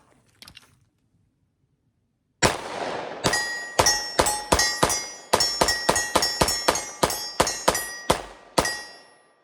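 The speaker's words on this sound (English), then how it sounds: "we're going to go ahead and just mag dump this one and see how well we can maintain staying on target here" Rifle fired in a rapid mag dump at steel targets, roughly a dozen sharp shots in quick uneven succession, each followed by a ringing metallic clang, loud and close after a brief quiet start.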